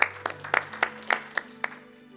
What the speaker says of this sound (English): Please give a round of applause for Chris.